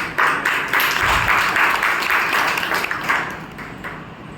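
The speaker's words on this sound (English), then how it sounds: "Ladies and gentlemen, with big round of applause, please help me welcome Toastmaster Kalpana." Audience at a Toastmasters club meeting applauds to welcome the Toastmaster, a steady, moderately loud wash of clapping that holds for several seconds and then thins slightly toward the end.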